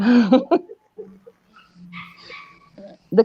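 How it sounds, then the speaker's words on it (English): A big dog whimpers and whines softly nearby in short, breathy bursts. People talk over and between the sounds. "There's a big dog behind you."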